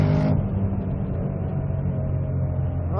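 A Ford Shelby GT500 Mustang pulls hard out of a track corner, its loud, close engine a steady low roar with a brief higher burst at the start.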